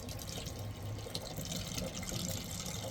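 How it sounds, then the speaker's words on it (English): Water is pushed across a splash pad toward its drain, a faint, steady rushing and trickling wash that carries on without a break and with no voices. "we're going to keep pushing water out to the drain"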